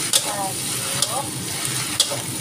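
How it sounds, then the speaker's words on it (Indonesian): Noodles sizzle steadily in a hot pan as they are stirred fast, with three sharp clanks of the utensil against the pan and brief speech in the background. "Kita aduk cepat ya."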